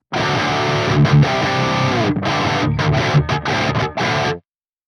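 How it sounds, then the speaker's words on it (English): Distorted electric guitar through a Soldano SLO-100 amplifier with reverb bypassed, playing a riff of sustained chords and short stops, loud and close, with dry abrupt cutoffs and no voices. "Here's how my guitar sounds with the reverb bypassed."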